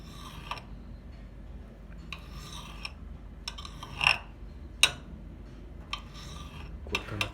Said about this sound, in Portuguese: Cortando aqui o último pedacinho do rabicozinho dela